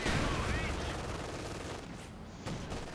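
Dense battlefield gunfire from the real-time strategy game Company of Heroes 2, continuous overlapping rifle and machine-gun bursts forming a loud, steady wall of shots with a heavier crack near the end.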